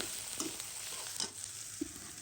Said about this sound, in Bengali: এখন এই যে পেঁয়াজ মরিচ তেলে ভেজে নিচ্ছি